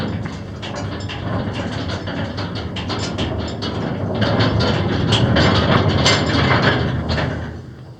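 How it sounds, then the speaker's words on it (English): A heavy metal ore car pushed by hand along mine rails rolls with rumbling and clanking, steady and close, growing louder toward the end before fading. "hand tram this big ore car"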